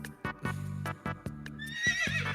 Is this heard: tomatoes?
no